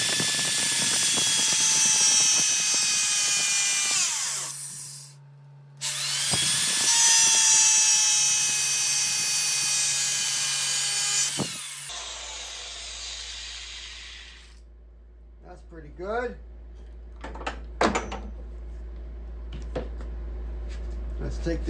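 A power tool cuts metal stock for a fret leveling file in two long, loud hissing passes with a short break between. Afterward the workshop goes quieter with a low hum, scattered clanks and brief talk.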